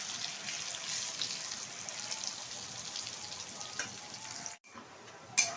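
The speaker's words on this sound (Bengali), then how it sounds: "পেঁয়াজটা কিন্তু খুব ভালোভাবে ভেজে নিতে হবে।" Onions frying in a pan for a coconut milk chicken curry give a steady, close hiss of sizzling oil, with faint stirring noises and a brief clatter near the end.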